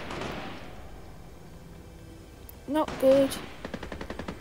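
Gunfire in the Fortnite video game: a few short loud bursts of shots near the end, with a rapid run of quick cracks after them, following quieter game ambience. A voice speaks briefly over it.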